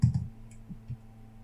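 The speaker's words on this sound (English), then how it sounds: "So let's type in some URL here." A URL is typed on a computer keyboard: a short burst of several quick, soft key clicks, close and quiet, with no talking.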